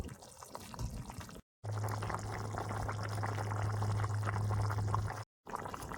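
Fish curry with taro and potatoes boils in a pot, giving a continuous bubbling, pouring-like wash of sound under a steady low hum, with two brief dropouts.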